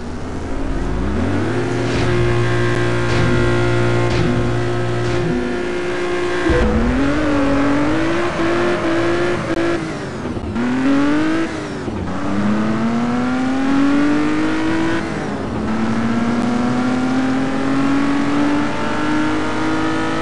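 Race cars in Test Drive Unlimited 2 rev loudly at the starting line, then engines climb through repeated gear shifts with rising, sliding pitch, a continuous roaring run with no voices.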